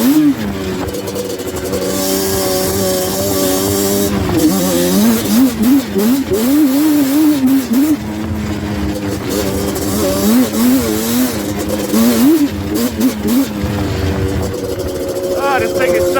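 A Yamaha Banshee ATV ridden in snow revs hard and close, its engine pitch rising and falling in rapid repeated throttle bursts with brief drops, and a voice talks over it.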